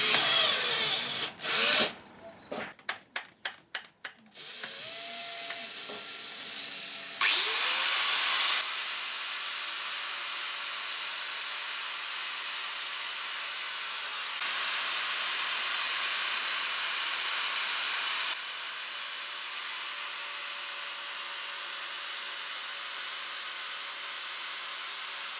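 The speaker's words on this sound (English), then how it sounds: "what you're about to see me do is not the best idea in the world, but it is what I call the poor man's lathe." A drill used as an improvised lathe to shape a wooden toilet roll holder: several short on-off whirs at first, then a long, steady, loud high-pitched grinding hiss as the tool cuts the spinning wood.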